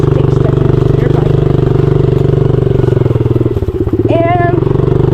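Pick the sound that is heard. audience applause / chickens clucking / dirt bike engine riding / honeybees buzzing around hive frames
dirt bike engine riding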